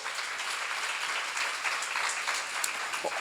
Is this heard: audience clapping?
yes